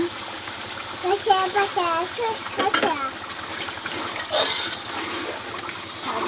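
Meat goes into fried masala in a pot, bringing a loud wet sizzle and stirring scrapes, with a strong hissing burst near the end, while someone talks over the cooking.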